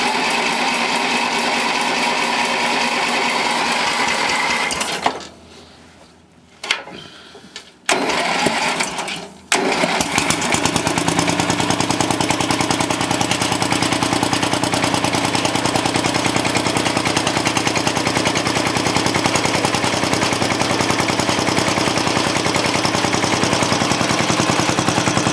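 A Suburban 14 tractor engine with worn rings cranks and catches after a few sputtering gaps, then settles into a loud, steady, rough idle while still cold, running close by with no talk over it.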